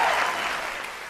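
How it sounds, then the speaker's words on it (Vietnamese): A brief, full burst of audience applause in a televised music competition studio, steady and loud throughout the short moment. "một tràng vỗ tay thật to nữa cho Tăng Ngọc Tuyền và những cộng sự"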